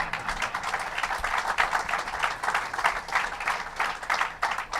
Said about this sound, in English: Special round of applause for Howard Zemsky